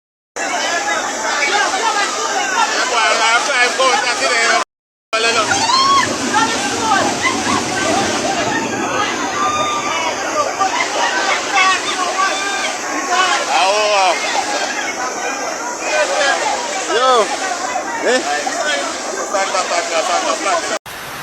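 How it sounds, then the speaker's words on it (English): Heavy rushing floodwater in Jamaica after torrential rain roars loudly and continuously, sloshing and churning, while people talk excitedly over it nearby. "Look for the pressure of the water."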